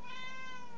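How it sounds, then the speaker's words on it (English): A distressed cat lets out one short, wavering meow, faint and somewhat distant, heard alone. "I've got a, a distressed cat here for some reason"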